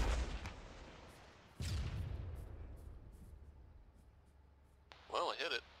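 Rocket strikes on a target in the ShackTac military video game: two heavy booms, one at the start and another a moment later, each trailing into a long rumbling decay, with a short voice near the end.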